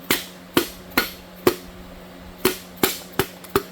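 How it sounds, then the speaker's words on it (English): Dead blow hammer tapping a piston down into the engine block of a long-dormant Ford 460 V8 during a budget rebuild: a string of sharp, close, evenly spaced knocks, about eight of them, with a short pause midway. "We'll take our dead blow hammer and just tap that thing down."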